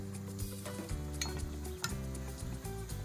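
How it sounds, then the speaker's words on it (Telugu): Black-eyed pea vadas deep-frying in hot oil give a steady, close sizzle with a few light stirring and utensil clicks over it. "బ్రౌన్ కలర్ వచ్చేదాకా వేయించుకుందాం"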